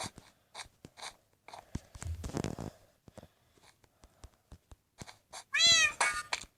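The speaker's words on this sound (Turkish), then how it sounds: "şu kedi sesine bir uyuz oldum ya" A cat meows loudly near the end, preceded by scattered clicks, rustles and soft handling noises.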